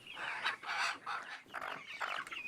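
Native chickens clucking at a local chicken farm, a series of faint, rhythmic clucking calls close together, with short pauses between bursts.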